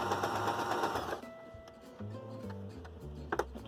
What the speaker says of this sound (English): we're just going to put the fabric in there quick, and we're going to sew